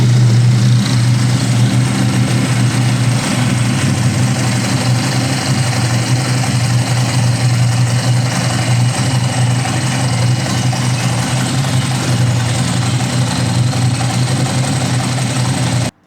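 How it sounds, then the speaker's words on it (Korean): A Ducati Sport 1000S motorcycle engine, clutch rod removed during dry-clutch service, runs at a steady loud idle throughout, close up with an even drone and no talking. "시동을 걸어 볼게요."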